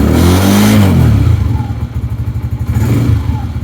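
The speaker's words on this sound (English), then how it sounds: "Watch what happens when I rev the engine." A Lifan King motorcycle engine is revved once, rising in a loud, close surge before dropping back to a choppy, thumping idle.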